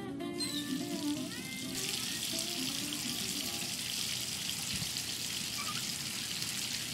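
Bathtub filling from a running tap in the video game Life Is Strange 2, a steady broadband rush of water that starts abruptly and continues evenly throughout, close and moderately loud with no talk over it.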